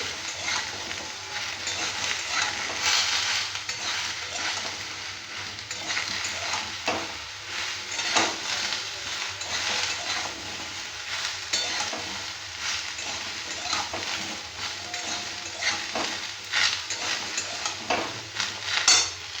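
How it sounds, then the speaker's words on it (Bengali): Pieces of ridge gourd sizzle steadily in hot oil in a pan, stirred again and again so that scraping spatula strokes and small clinks recur over a constant close frying hiss, with no voices. "ঝিঙেটা বেশি ভাজার দরকার নেই"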